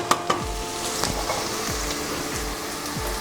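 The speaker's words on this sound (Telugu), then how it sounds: "ఇప్పుడు సిమ్లో పెట్టుకుని ఒక 5 మినిట్స్ ఫ్రై అవనిద్దాం." A curry of egg, drumsticks and prawns frying on a low flame, a dense continuous sizzle and crackle with occasional soft pops, close and steady throughout.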